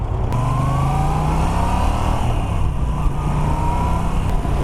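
A Moto Guzzi V9 Roamer motorcycle engine runs steadily and loudly up close, a continuous low rumble with a slight rise in pitch early on, and no voices.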